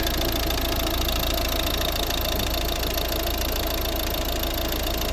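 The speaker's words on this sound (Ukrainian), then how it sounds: "У нас робота двигуна" A 2011 Volvo S40 1.6 D2 turbodiesel, eight-valve engine idles steadily and continuously at close range, with a dense, even rumble and a faint rhythmic knock throughout.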